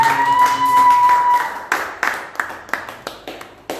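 A church congregation claps in scattered, uneven bursts during a worship service, the sharp claps trailing off into a few isolated hits over a faint sustained tone.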